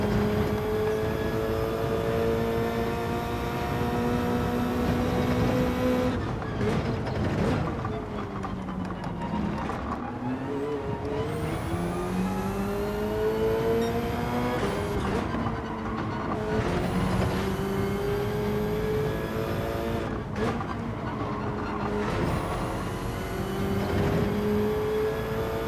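Subaru BRZ race cars lapping a track, engines droning loudly and steadily with rising and falling pitch through gear changes, the note dropping sharply several times under braking and downshifts.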